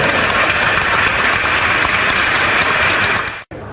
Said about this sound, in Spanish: Fuerte, fuerte el aplauso, por favor.